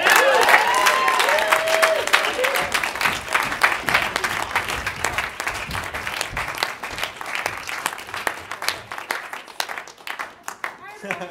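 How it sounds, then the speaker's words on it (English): An audience at an evening show applauds the first act, dense sustained clapping with some cheering that holds steady and slowly thins toward the end. "Let's get a big round of applause for our first act of the night"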